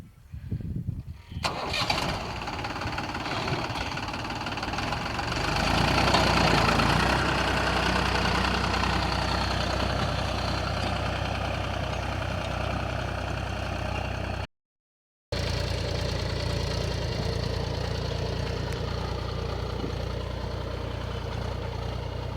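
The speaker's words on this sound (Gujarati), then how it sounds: "હાલો હું તમને ટ્રેક્ટર બતાવું" A farm tractor turns over and fires up, then settles into a steady, loud, low diesel idle that runs on without a break, with a short gap partway through.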